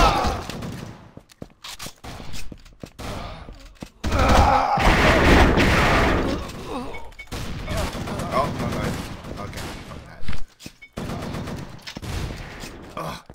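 Grenade blasts and rapid gunfire in the first-person shooter Assault Cube, loud bursts of shots and booms in clusters with gaps between, and a player talking over parts of the action.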